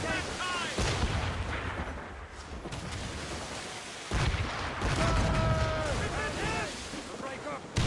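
Ship cannon fire in Assassin's Creed Rogue, deep thunderous blasts rolling over a sea-battle din, with crew shouting orders on top of the barrage.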